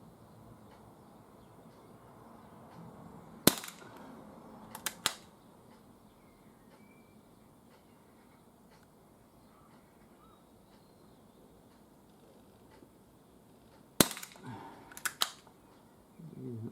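An Umarex S&W M&P45 2.0 CO2 pistol fires pellets outdoors in two short clusters of sharp, snappy pops, with quiet ambient noise and faint sounds between shots.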